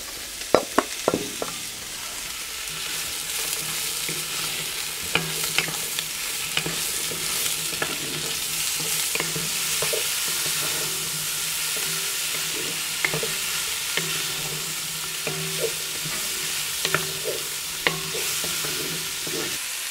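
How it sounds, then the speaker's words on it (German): Sausages frying in hot oil inside a Dutch oven, a steady close sizzle with scattered pops and occasional scraping stirs throughout, no voices. "fangen wir an und braten erstmal unsere Würstchen an"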